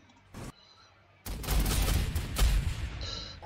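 Battle noise from Warhammer 40,000: Sanctus Reach with Orks, a short blast early on, then a sustained loud volley of gunfire and booms that tapers off near the end.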